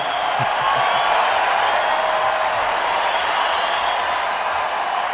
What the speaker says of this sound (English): Let that applause run.